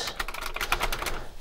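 Rapid clattering keystrokes on a heavily modded Commodore 64 keyboard, close and steady, a quick run of clicky presses with no talking.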